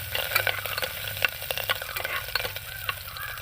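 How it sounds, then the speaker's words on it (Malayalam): Ginger and garlic fry in oil over a low to medium flame for a Kerala potato curry, giving a continuous soft sizzle with frequent stirring scrapes and small pops, close and unvoiced. "ലോ ടു മീഡിയം ഫ്ലെയിമിൽ വെച്ച് കൊടുത്തിട്ട് ഇതൊന്ന് മൂപ്പിച്ചെടുക്കാം."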